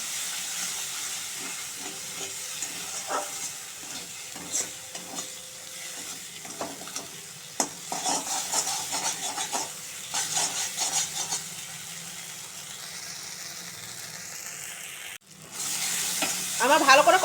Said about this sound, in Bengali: মশলাটা আমার ভালো করে কষানো হয়ে গেছে। এখানে একটু তেল বেরিয়েছিল কাঁকড়ার, ওই তেলটাও আমি দিয়ে দেবো। আর একটু ভালো করে কষে নেব।